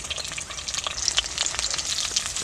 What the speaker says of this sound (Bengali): আমার ভাজা কমপ্লিট আমি তুলে নিব